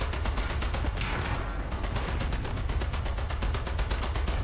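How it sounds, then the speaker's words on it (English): Rapid sustained machine gun bursts from a Centurion Mk. 3 tank in War Thunder, a dense regular rattle of shots running loud and continuous throughout. "Might be able to machine gun him out."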